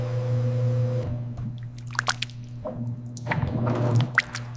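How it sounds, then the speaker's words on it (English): Diced tomatoes being blended and coated on a factory line give wet squishing and dripping sounds over a steady machine hum, with irregular soft splats and liquid movement, close and moderate in level. "The meticulous blending process begins, ensuring every diced tomato cube is perfectly coated and infused."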